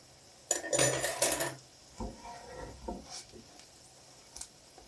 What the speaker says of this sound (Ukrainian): І знов накрию кришкою, і нехай вони смажаться з другої сторони.